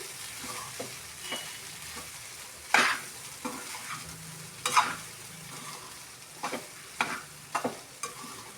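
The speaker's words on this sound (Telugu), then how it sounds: "ఇప్పుడు మనం దాన్ని మొత్తం మిక్స్ చేసుకుందాం" Egg masala stirred through rice in a pan for egg rice, a spatula scraping and clattering in irregular strokes over a faint sizzle, close and moderately loud, with no talking.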